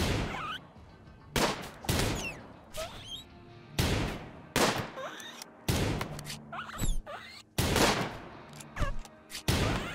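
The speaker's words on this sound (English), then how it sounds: "Did you just shoot Ida?" Gunfire in the colony-survival video game RimWorld with a snipers-only setup: repeated loud, sharp synthetic shots in irregular bursts, some overlapping with short chirpy effects, no talk.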